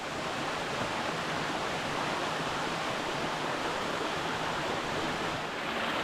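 Water of a stream rushing steadily through the Peračica gorge near Brezje, a dense, even wash of sound that stays close and constant with no voices over it.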